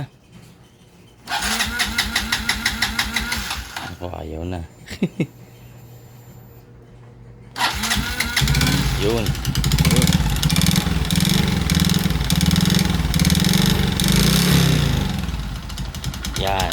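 A Suzuki Shooter 115 Fi motorcycle engine with a damaged transmission bearing cranks and sputters, goes quiet, then starts and runs with a loud, rough, revving rumble. A person speaks and laughs briefly.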